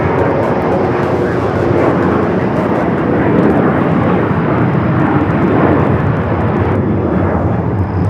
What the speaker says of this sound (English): This takeoff is American Airlines 3144 taking off to Indianapolis on the 737-800